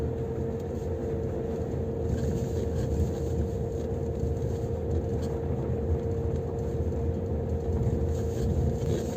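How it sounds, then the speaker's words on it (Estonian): A 2011 Ford Mondeo drives over a bad road, its cabin filled with a steady low road rumble and engine drone with faint knocks from the uneven surface, no talk. "kuulame, mida teeb auto proovisõidu ajal kehva tee peal"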